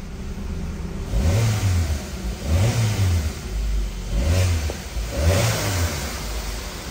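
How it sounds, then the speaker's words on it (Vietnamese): A 2012 Chevrolet Cruze LTZ engine with about 229,000 km runs close by, revved four times in even bursts that rise and fall back to idle between each. "Bây giờ cho mọi người nghe tiếng động cơ nổ này"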